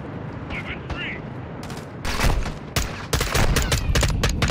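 Call of Duty Modern Warfare 2 gunfire, rapid automatic bursts and loud single shots crowding the second half, with a voice speaking earlier over the game ambience.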